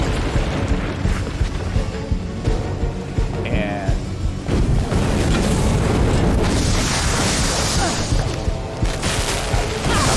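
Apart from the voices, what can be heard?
explosions in the video game We Happy Few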